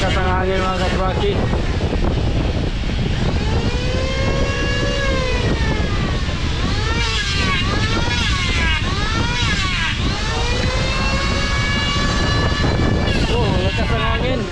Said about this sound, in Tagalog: Grabe, ang lakas ng hangin mga kaspraki.